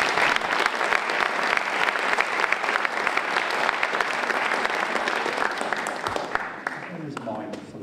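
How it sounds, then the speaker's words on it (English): Sustained applause from an opera-house audience at a school shield competition, steady dense clapping that fades near the end as a voice begins. "Can we give him a round of applause?"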